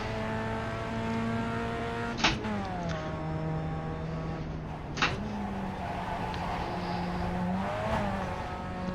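Racing car engine in a virtual racing game, a steady high harmonic drone that climbs in pitch as it accelerates, drops sharply at gear shifts with brief bursts, then climbs again, loud and continuous with no talk.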